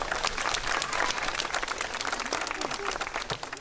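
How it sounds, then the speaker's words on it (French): A crowd at a sea lion show bursts into applause, a thick continuous patter of many clapping hands that stays loud and steady, with faint background chatter mixed in. "Je pense qu'on peut l'applaudir quand même."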